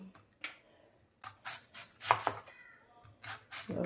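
A knife chops banana stem into rounds on a board, with a series of crisp, close cuts coming in irregular bursts.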